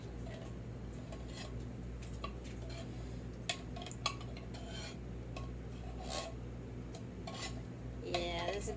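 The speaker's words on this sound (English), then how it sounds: "I'm going to add the other can of cheese" Canned nacho cheese goes into a pot in a home kitchen, with scattered metallic scrapes and clinks of a utensil against the can and pot over a steady low hum, a few sharper knocks standing out.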